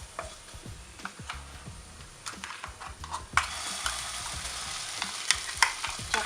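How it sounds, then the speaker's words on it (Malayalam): Chutney and onions sautéing in a pan for mint rice, a soft sizzle broken by repeated scraping and tapping of a spoon stirring, with the frying growing louder midway. "ചട്നി ഇട്ട് നന്നായിട്ടൊന്ന് വഴറ്റണം."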